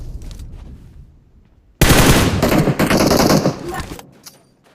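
In PUBG on the Miramar map, a loud burst of rapid automatic gunfire erupts and lasts about two seconds. Quieter game noise comes before and after, with faint voices talking.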